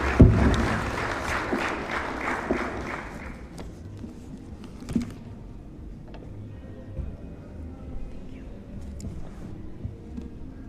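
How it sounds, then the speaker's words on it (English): An audience at a university speech event breaks into applause that is loudest at the start, then thins and fades within about three seconds, leaving a quiet hall with scattered faint noises. "Round of applause, please."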